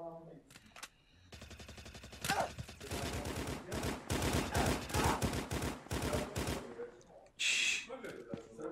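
A grenade explosion and bursts of gunfire from a VR shooter game ring out loud and dense over several seconds, with rapid crackling shots, a heavy blast near the end, and voices talking underneath.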